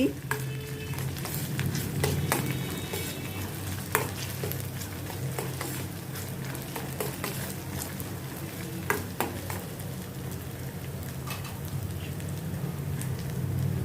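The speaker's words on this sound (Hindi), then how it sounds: "इसको भी मैं प्याज के साथ सौते करती हूँ जैसे इनका भी कच्चापन निकल जाए।" Ginger, garlic and green chili paste and onions sizzle steadily in a hot pan, close up, with occasional scraping stirs cutting through the constant frying hiss.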